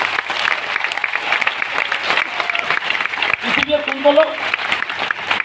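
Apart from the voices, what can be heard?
audience clapping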